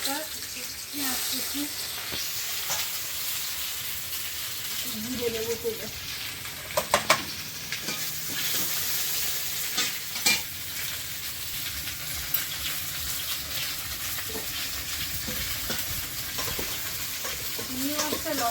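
Fish frying in oil over a burner with dry salt, with a steady sizzle and hiss throughout, broken by occasional stirring scrapes and brief clinks, and faint voices in the background.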